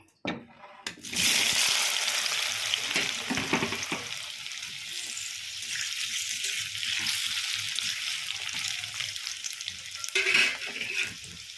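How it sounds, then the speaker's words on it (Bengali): Potatoes sizzle and crackle in hot mustard oil in a wok, a steady close frying hiss that starts sharply after a brief pause, with occasional stirring scrapes and no talk. "প্রথমে আলুটা ভেজে নেব।"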